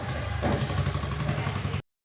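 A tractor engine runs steadily with a low, chugging rumble during a wedding procession, loud and close for nearly two seconds before cutting off abruptly.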